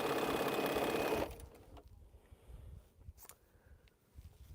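A sewing machine stitches quilt strip rows in a steady close whir for just over a second, then stops, leaving faint handling sounds of fabric.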